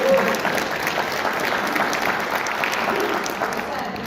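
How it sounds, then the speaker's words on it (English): An audience at a state senate candidate debate applauds, a broad steady wash of clapping with faint voices mixed in underneath. "Okay, one more round of applause."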